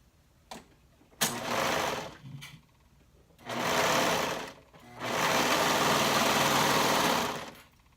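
A home sewing machine stitching a quarter-inch seam on a fabric sleeve bodice, running in three bursts: a short run, a medium one, then a longer steady whir, with brief pauses between.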